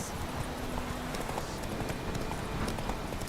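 Roach, the horse in The Witcher 3, gallops with continuous rhythmic hoofbeats, loud and close, against a dense background of outdoor game ambience.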